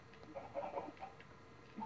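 Chickens in the video game Minecraft give a few soft, scattered clucks at a quiet level, with no speech over them.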